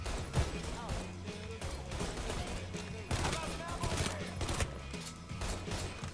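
Gunfire from a gun in Mafia 3: steady bursts of shots under game noise and music, fairly dense and continuous, with a few sharper cracks standing out.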